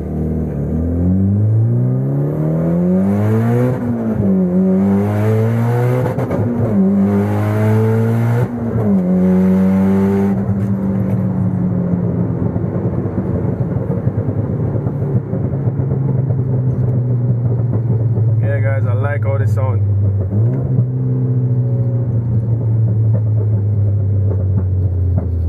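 Mitsubishi Evolution X accelerating hard on a test pull, the engine rising loud and close through repeated rev climbs and gear shifts before settling into a sustained steady drone.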